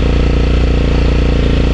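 A BSE Z7 motorcycle, a hybrid machine built from parts of different bikes, idles steadily and loudly close by with an even, rapid engine pulse throughout.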